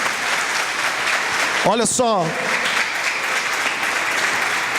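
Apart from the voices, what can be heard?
church congregation applause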